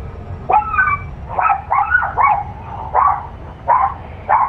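A dog barks and yips in a video game, a run of about eight short, sharp calls spaced irregularly over a low steady background hum.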